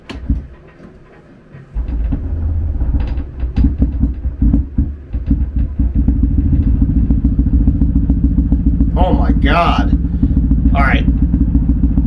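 A low, steady aircraft engine rumble idles throughout in a flight simulator, with some thumps and clatter, while someone speaks briefly over it.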